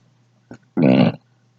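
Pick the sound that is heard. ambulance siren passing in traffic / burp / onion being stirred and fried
burp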